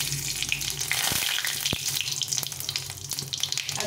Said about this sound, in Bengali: তেলটা গরম হয়ে গেছে, শুকনো লঙ্কা আর সাদা জিরে দিব